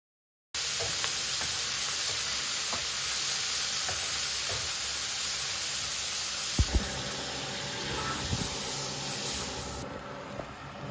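Beef fat (tallow) sizzles steadily in a pan, a constant close hiss of frying with a few faint clinks and stirring knocks partway through and no talking.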